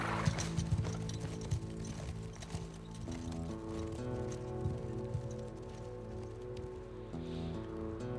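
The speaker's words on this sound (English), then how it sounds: "Ellie climbs a horse with Dana." Horses ride off together in the video game The Last of Us Part II, soft hoof clops and rainy ambience blending beneath a steady bed of sustained musical score with no talking.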